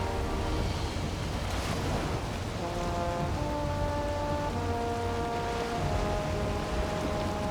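Stormy weather at sea in the game Valheim: a loud, constant wash of waves and rain with rushing wind, plus a few sustained tonal notes drifting in and out over the steady roar.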